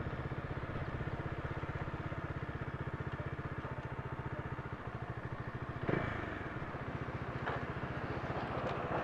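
Bajaj Dominar 400 motorcycle idling through its stock exhaust, a rapid, even low thumping with a metallic clatter on top and a brief blip near the six-second mark, moderately loud and close, with no talk.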